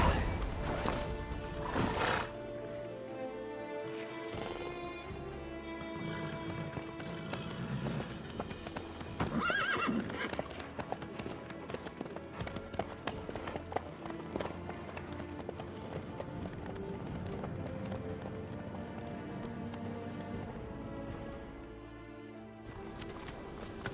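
A horse in The Witcher 3 moves at speed with rapid, rhythmic hoofbeats and a whinny near the start, under game music and some talk.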